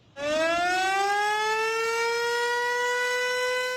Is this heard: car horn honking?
no